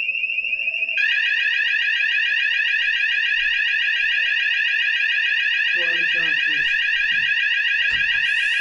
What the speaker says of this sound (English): I set the fire alarm off with my Dyson Airwrap